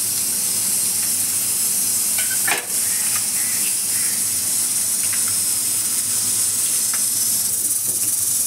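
Curry leaves and a few garlic cloves sizzle in hot tempering oil for kadhi, a steady close hiss with faint scattered pops throughout.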